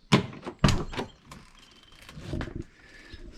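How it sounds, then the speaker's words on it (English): The rear door of a green 1972 Mercedes-Benz 280SE 4.5 (W108) with a cream interior opens with two sharp, close latch clicks and thunks, followed by softer mechanical creaks and rustling. "Let's open up this back door here."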